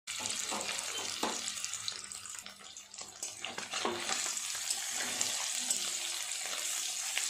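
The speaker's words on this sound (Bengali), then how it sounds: "তেল গরম হয়ে গেছে পনিরগুলো দিয়ে হালকা করে ভেজে নেব" Paneer pieces frying in hot oil in a home kitchen give a steady, close hiss and crackle that runs throughout, with a few brief utensil clinks.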